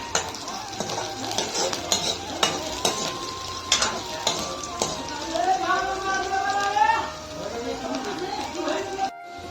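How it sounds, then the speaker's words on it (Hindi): Onion and garlic frying in hot oil, with a spatula stirring and scraping the pan in uneven bursts under a steady sizzle, while voices and tonal sounds drift faintly in the background. "तो प्याज लहसुन अच्छी तरह से भुंजा गया है।"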